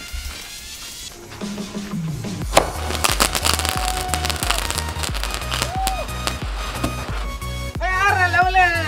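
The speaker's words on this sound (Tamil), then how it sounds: "ஃபஸ்ட் டைம் இது வெடிக்க போகிறேன்." A chocolate firecracker bursts into a run of rapid crackling pops and sharp bangs, loud and close, with whistling streaks partway through and people talking in the background.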